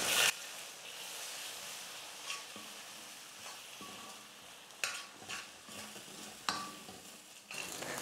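Eggs cook and get stirred in a kadai for an egg Maggi dish, with soft sizzling underneath and scraping stirs of a utensil at irregular moments, close and fairly quiet with no talk.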